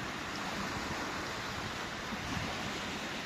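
Steady roar of sea waves washing in at a waterfront in Magadan, broad and constant, with no voices.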